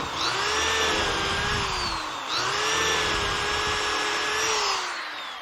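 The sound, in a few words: power drill drilling holes through jig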